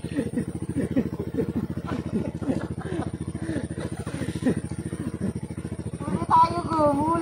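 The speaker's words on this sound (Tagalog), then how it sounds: "Ang daan dito ay may part na maputik at madulas, na kapag nadaanan ng single na motor ay siguradong ganito ang mangyayari." A single motorcycle chugs and labors on a muddy, slippery road at a beach campsite, its engine putting in a rapid steady throb with clattering bursts and rising revs toward the end, close by.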